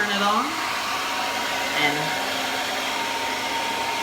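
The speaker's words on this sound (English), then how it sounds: "You take your blow dryer, turn it on" A handheld blow dryer runs steadily and loudly, blowing air onto a bleached lace hair closure, with a brief spoken word near the start.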